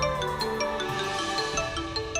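Mobile phone ringtone: a bright, repeating electronic melody of short tonal notes playing at moderate volume, slightly muffled, with no talk over it.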